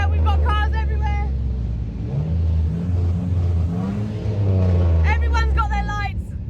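Cars driving in a lit-up parade, engines revving and rumbling close by in a steady drone, with someone talking over them throughout.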